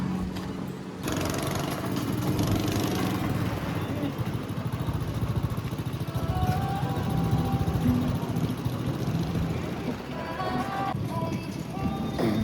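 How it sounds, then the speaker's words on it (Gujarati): Go-kart engines race around a track with a steady buzzing drone that rises and falls in pitch as karts pass, while people talk over the noise throughout. "મારા ભાઈનું ગો રેસિંગ ચાલુ થઈ ગયું"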